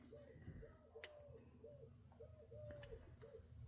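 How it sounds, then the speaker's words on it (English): Doves coo softly in a repeating rhythm of rising-and-falling calls, several phrases in a row, heard faintly outdoors over a low background hum. "Listen to them doves. Very happy."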